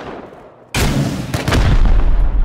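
AK rifle fire in the survival game Rust, a sudden loud burst of rapid, booming shots that keeps going to the end after a quiet start.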